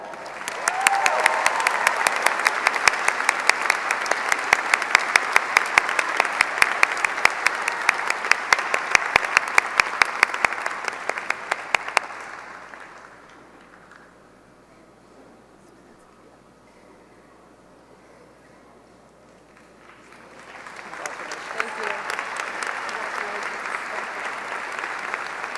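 A large crowd applauds graduating nurses at the Columbia University School of Nursing 2013 graduation ceremony, with loud, sustained clapping for about twelve seconds, a quiet gap, then another full round of applause.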